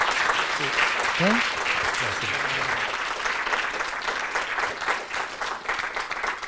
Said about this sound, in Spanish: le damos otro aplauso a Diego, por favor